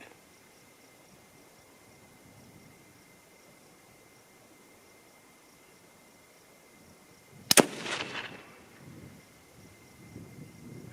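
A single loud rifle shot from a 25-06 Remington loaded with Ramshot Grand powder and 100-110 grain bullets, fired outdoors. It cracks once after a long quiet stretch, then rumbles and echoes away.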